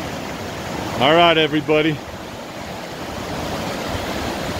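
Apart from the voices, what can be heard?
Poudre River flowing, Fort Collins, Colorado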